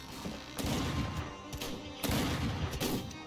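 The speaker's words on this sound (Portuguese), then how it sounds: "Esses caras trocando tiro pra tudo que é lado aqui" Gunfire in the Roblox game The Wild West, with several sharp shot bursts spread across a few seconds, fairly faint and heard without any talk.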